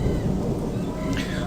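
Steady rain with a low rumble of thunder in the medieval fantasy RPG Gothic, a dense, continuous wash of noise that stays loud and even throughout with no voices.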